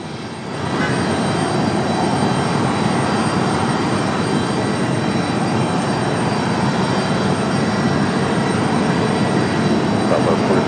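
An Air France heavy jet takes off from runway 5 left at Raleigh-Durham International, its engines swelling within the first second into a steady, loud, broadband roar that holds for the rest of the clip.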